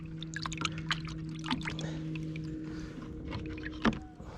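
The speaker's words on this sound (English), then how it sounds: "rinse it off in some water" Water splashing and trickling as a bowl is rinsed, with scattered close sloshes and drips over a steady low hum, ending in a brief louder splash.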